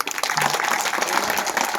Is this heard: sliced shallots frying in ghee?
no